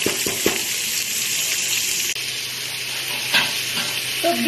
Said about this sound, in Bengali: মিডিয়াম আছে, একটু এটাকে ভেজে দিচ্ছি, সামান্য একটু নেড়ে দিচ্ছি